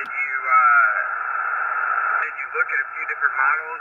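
A Yaesu FT-891 transceiver on the 60 meter amateur band plays a hissy, narrowband received voice signal with no digital noise reduction switched on, close and steady throughout.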